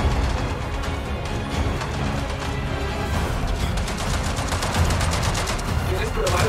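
Rapid gunfire bursts from Avatar: Frontiers of Pandora, a video game, crackling steadily through the whole stretch at a loud, dense level, with a voice talking over parts of it.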